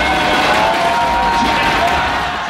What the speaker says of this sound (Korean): 역시 팬들의 함성이 장난이 아닙니다.